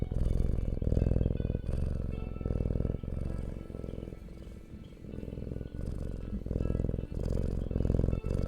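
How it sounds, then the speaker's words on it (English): A cat named Rivi purrs loudly and close, a continuous rhythmic rumble pulsing with each breath in and out, steady throughout with no talking. "There's so many people listening to you purr"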